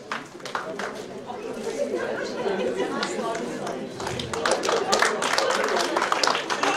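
Audience applause at a school felicitation ceremony, steady clapping that swells toward the end, mixed with crowd chatter and a voice speaking.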